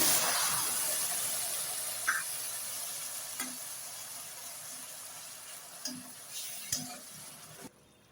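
Quiet, steady sizzling of lemon juice in a hot tempering pan for lemon rice, with a few light clicks and taps of a utensil against the pot.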